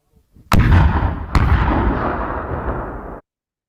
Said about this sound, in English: a video from 10 years ago of a firing range in Finland, and it has a number of explosions